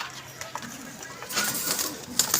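Soft pigeon coos in the background amid shuffling and rustling, with a few sharper flutters toward the end.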